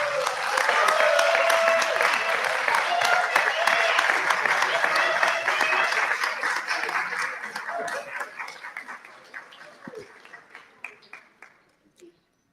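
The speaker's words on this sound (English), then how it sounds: "give them a rousing round of applause for the support you've received through the years here" Graduates at a business school hooding ceremony clap for their families in a sustained round of applause with scattered cheers and laughter, gradually thinning out and fading to a few last claps.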